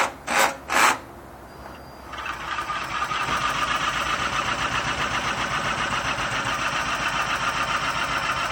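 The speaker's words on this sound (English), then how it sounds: "let's see if we can get it started with this drill." A few short rasping pulls, then a 2.5 kW biogas generator engine catches and settles into a steady, rhythmic running drone with a buzzing mechanical chatter.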